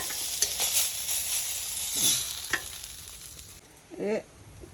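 Koi fish frying in hot oil, a steady close sizzle with a few scraping stirs and clatters of a utensil against the pan.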